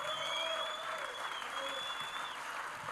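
An audience applauds Michi Hofmann at a panel event: sustained, even clapping from a crowd, moderately loud, with a faint high tone running underneath.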